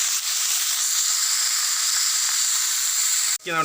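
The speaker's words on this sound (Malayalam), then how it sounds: "വേവിച്ച് നമ്മൾ മാറ്റി വെച്ചിരുന്ന കപ്പങ്ങ ഇട്ട് നന്നായി ഒന്ന് ഇളക്കി കൊടുക്കാം" Boiled raw papaya tossed into a hot pan for a spinach and grated coconut stir-fry, a steady loud hiss of frying that stops abruptly near the end, followed by a brief clatter.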